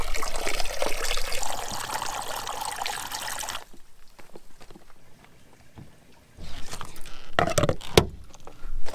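Cold spring water gushes in a steady stream into a camper van's tank in the mountains, loud for several seconds, then drops to quieter trickling and knocking before a burst of splashing and clunks resumes.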